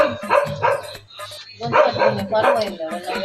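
Several dogs bark in quick, repeated bursts close by, with voices talking over them.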